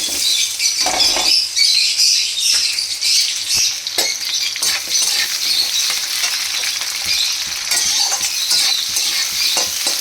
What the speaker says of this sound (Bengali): দিয়ে এবার দেবো এই পেঁয়াজগুলো।